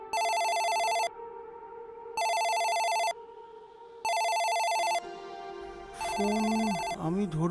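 A telephone rings indoors in a repeated electronic pattern of three long bursts separated by pauses, fairly clear and close, followed by a short burst of another tone and a voice at the end.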